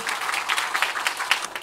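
Audience applause filling a lecture hall at the close of a science talk, steady and sustained clapping from a sizable crowd with no voices over it.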